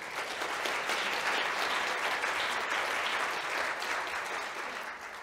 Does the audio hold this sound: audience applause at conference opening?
yes